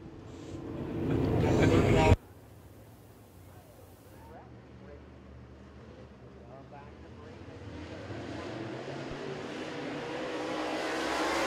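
Race cars at Wythe Raceway: a loud near roar that cuts off abruptly, followed by engines droning and building steadily as cars circle the track, with a commentator talking over it.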